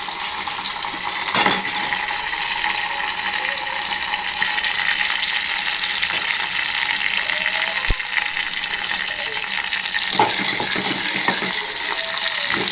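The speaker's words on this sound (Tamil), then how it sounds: "வதக்கிட்டோம். வெங்காயம் வதங்கட்டும்." Small onions and curry leaves sauté in hot oil for milagai killi sambar, giving a steady, close, hissing sizzle throughout, broken by a few sharp clinks of a utensil against the pan; no one speaks.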